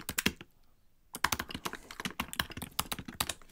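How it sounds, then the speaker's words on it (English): Typing on a computer keyboard during a live podcast Q&A, sharp close keystrokes in quick bursts, a brief pause near the start, then a rapid irregular run of clicks, no voices. "trying to type while I talk at the same time"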